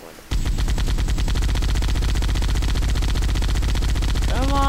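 Rapid automatic gunfire from a weapon in a video game starts abruptly after a brief quiet moment and roars on loud and continuous, with a dense rattle of shots filling the whole stretch.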